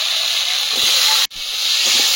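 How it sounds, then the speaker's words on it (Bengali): Chopped tomato dropped into vegetables frying in a pan over a clay stove brings a loud, steady sizzling hiss that cuts out briefly for a moment, then resumes at full strength. "এবারে টমেটো কুচি দিয়ে দেবো।"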